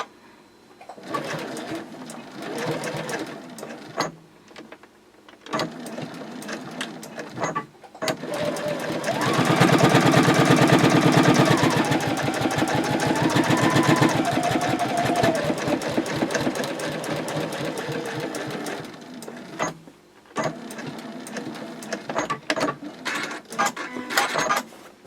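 A sewing machine top stitches a fabric sling, its needle whirring in a rapid steady chatter through short bursts and one long sustained run, with brief pauses between.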